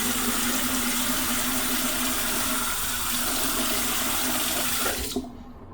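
A bathroom tap runs steadily and loudly, filling a sink with water to wet the face between shaving passes, then abruptly cuts off near the end.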